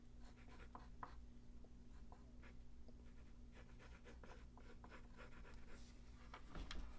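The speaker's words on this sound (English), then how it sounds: "And then maybe pencil in the point for his helmet like this." A pencil sketches on paper while drawing a comic character, soft scratchy strokes in short bursts, quiet and close over a low steady hum.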